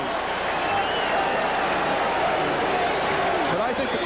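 A packed stadium crowd at an Ohio State vs Michigan football game roars loudly and continuously, a dense wash of noise filling the whole span.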